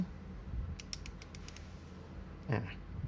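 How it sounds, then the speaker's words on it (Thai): The focus ring of a Nikomat EL camera lens turns in a quiet room, giving a short series of small, crisp clicks followed by a brief creaking scrape. "หมุนทุกคลิกนะ แหวนโฟกัส"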